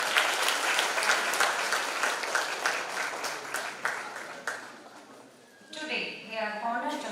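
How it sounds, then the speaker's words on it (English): Audience applause at an IEEE international conference in Shivamogga, a dense wash of clapping that fades out around five seconds, followed by a speaking voice. "I request all the audience to give him a big round of applause"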